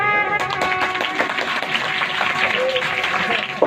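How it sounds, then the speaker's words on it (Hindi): Audience at a Bhagavat katha religious discourse clapping steadily in a dense, continuous patter, with music and voices mixed in underneath. "अब बजाओ तालियां।"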